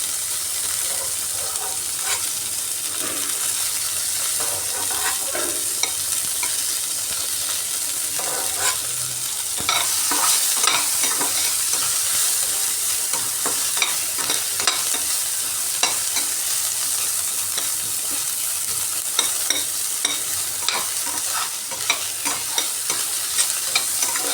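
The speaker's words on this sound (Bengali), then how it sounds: "কাঁচা লঙ্কাগুলো একটু ভাজা ভাজা করে নিয়ে এগুলাকে এখন উঠিয়ে নেব" Green chillies fry in oil in a pan with a steady, close sizzle and hiss, broken by repeated scraping stirs of a spatula.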